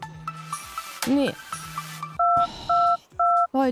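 A mobile phone call is rejected: a short series of steady two-tone beeps, three loud repeated bursts near the end, follows softer tonal chirps and quieter speech-like sounds at the start.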